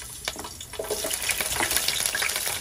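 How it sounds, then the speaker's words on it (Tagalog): Garlic and onion hit a hot pan for a Filipino sinigang, giving a soft, steady sizzle with some watery crackle that swells after a brief quieter start and continues without pause. "Maggisa na tayo mga Mars. Unahin natin ang bawang sibuyas."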